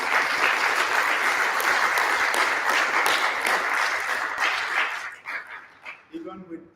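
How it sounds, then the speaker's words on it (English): An audience gives a sustained round of applause, dense and loud, then it thins out and stops, with a dog barking and a voice at the close. "Let's give him a round of applause"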